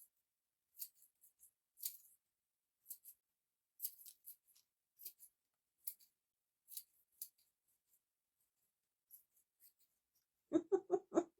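Scissors snipping dried fall stems for a bowl filler, a scatter of quiet, sharp individual cuts spaced a second or so apart in a very still room, ending in a brief cluster of louder rustling handling.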